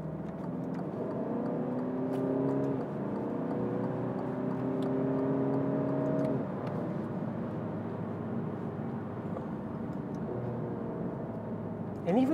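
A 2021 Alfa Romeo Giulia Q4 Veloce with a 2.2-litre diesel engine revs up and shifts from inside the cabin, a steady droning whine climbing in pitch, dipping at gear changes, then rising again.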